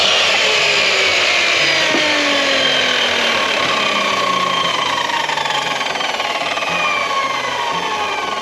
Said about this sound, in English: Later in the day I needed to cut some longer pieces